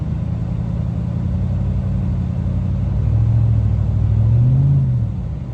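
A truck engine rumbles at low pitch as it pulls a vintage pulling mower out of weeds, loud and close, with the pitch rising slightly as it works harder.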